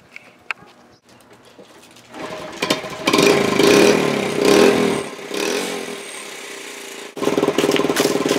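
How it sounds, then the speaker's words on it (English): A small mini bike engine runs and revs outdoors, starting quietly then rising to a loud, steady drone with swells in pitch, dropping off briefly before picking back up near the end. "since we got the mini bike working the other day, that we're gonna take the mini bike"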